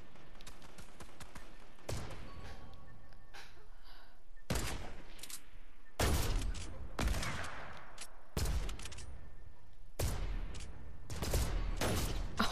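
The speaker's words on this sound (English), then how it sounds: "We shot him underneath." Gunfire in the Fortnite video game, a series of sharp, loud shots in irregular bursts spread across the clip, close and punchy over a low background hum, with no talking.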